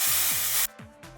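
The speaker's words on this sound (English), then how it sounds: "I'm actually going to spray some Aussie Glitzy Pink glitter spray" A single loud burst of Aussie Glitzy Pink glitter hair spray hisses for about half a second, then cuts off, leaving faint handling noises.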